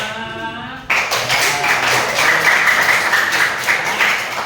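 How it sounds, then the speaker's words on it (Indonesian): A primary school class applauds together in a classroom, a sustained burst of clapping from many hands that starts abruptly after a brief quiet moment and continues steadily. "Oke, tepuk tangan untuk kita semua."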